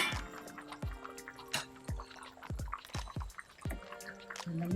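Jaffna-style egg curry bubbling steadily in a pot, with a quiet run of soft, close plops and pops repeating every half second or so.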